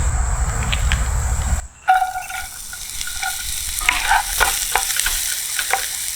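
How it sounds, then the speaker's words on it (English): Shallots sautéing in garlic and butter in a pan for au poivre sauce give a steady close sizzle with stirring clatter; a brief loud rumble at the start cuts off before the frying continues. "The first step for making the au poivre sauce is to saute shallots in garlic and butter"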